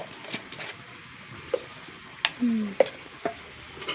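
Curry with turmeric is stirred in a pan, with sparse scraping strokes and clicks of a spoon over a faint sizzle, close and fairly quiet.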